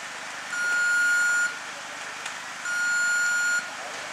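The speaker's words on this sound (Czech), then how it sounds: "Na třetí pípnutí." Start countdown beeps at a mountain bike race: two clear electronic tones, each about a second long, spaced apart over faint outdoor background.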